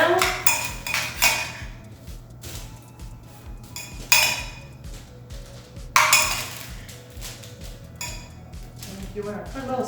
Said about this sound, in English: And our spoon. And stir it around.